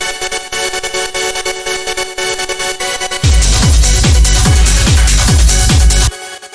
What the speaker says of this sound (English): And then we just have a bit of saturation.